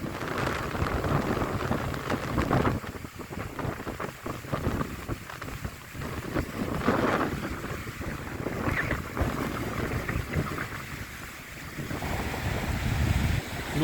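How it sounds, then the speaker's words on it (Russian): Strong wind roars across Lake Syamozero in Karelia as whitecapped waves churn and splash, a loud continuous blustery rush with gusts buffeting the microphone and no voices. "Все-таки барашки еще на волнах есть, шумит сильно"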